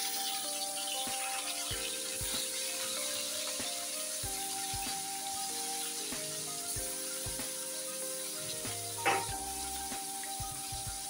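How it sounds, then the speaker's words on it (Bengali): Shol fish pieces with the skin removed frying in hot oil, a steady close sizzle and crackle running throughout with a brief louder spatter near the end, no talking. "তো এখন আমি মাছগুলি ভেজে দিই,"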